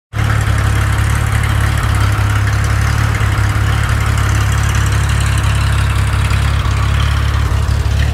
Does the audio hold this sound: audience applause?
no